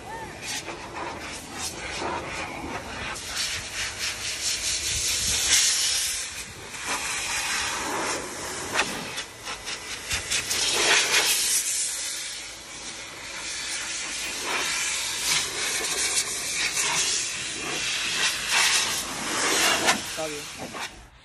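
A loud, steady rush of air from a Master Blaster car blower dryer fills the clip, broadband and hissy, swelling and easing a few times.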